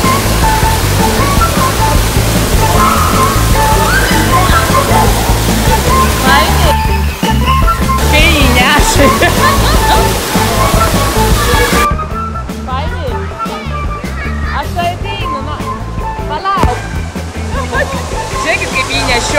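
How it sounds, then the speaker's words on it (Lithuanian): Swirling water in a swimming pool rushes loudly and continuously like a churning current, with splashing and echoing voices talking throughout over the roar. "Yra kur sukasi vanduo"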